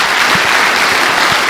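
A church congregation applauds for Jesus during a service, a loud, close, dense burst of many people clapping without pause.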